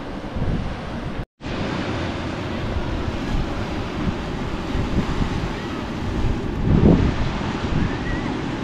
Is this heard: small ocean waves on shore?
yes